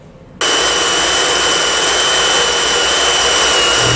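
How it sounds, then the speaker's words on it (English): A power drill with a 3/8 bit drills out a frame rivet on a 2019 Ram 3500 during a trailer hitch installation, starting suddenly into a loud, steady, high whine that holds unbroken. "We're going to use a 3/8 drill bit to remove the rivet, so just starting at the center of the rivet, just drill right on through."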